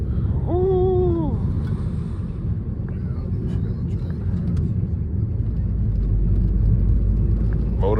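A 2015 Chrysler 200 on the move, its broken motor mount sending a steady low rumble and vibration through the cabin, loud and constant, with a brief voice sound near the start.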